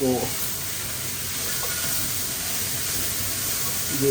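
Onion and ginger frying in a pan for Thai pork green curry, a steady close sizzle and hiss throughout, with someone speaking briefly at the start and end.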